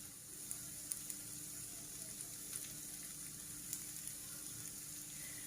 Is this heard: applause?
no